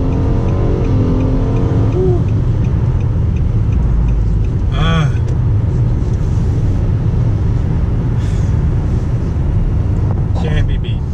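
A 2017 Nissan Maxima, eighth generation, runs loud and steady with its engine rumbling close by throughout, and a few brief higher tones cut in over the drone.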